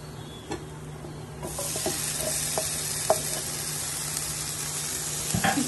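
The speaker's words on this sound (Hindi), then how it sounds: "इसको 1 से 2 मिनट के लिए इसे भी फ्राई करेंगे।" Chopped tomatoes dropped into a pan of browned onions for paneer bhurji, starting quiet then bursting into a steady loud sizzle, with scattered clinks and scrapes of a spoon stirring, close and without talking.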